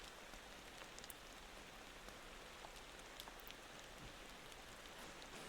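Steady rain hissing and pattering on surfaces at night in the driving game Motor Town, quiet and continuous with scattered drop ticks and no talking.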